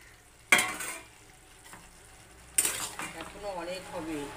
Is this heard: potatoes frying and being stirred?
yes